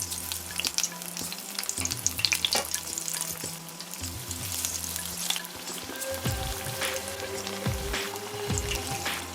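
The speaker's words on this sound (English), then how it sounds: "Once you coat it, now you're going to drop it in that hot oil." Batter-coated baigan (eggplant slices) frying in hot oil, a steady dense sizzle and crackle with bursts of bubbling as pieces settle and are stirred, close and continuous with no talking.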